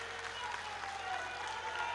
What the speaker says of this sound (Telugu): చప్పట్లు కొట్టి వారికి అభినందనలు చెప్పండి